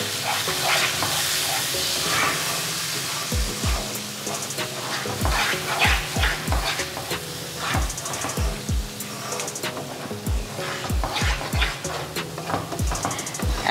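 Spice masala with ground coriander is sautéed and stirred in a pan for beef rezala, giving a close frying hiss with repeated hard scraping and knocking strokes in an irregular rhythm; low tonal background sounds run throughout.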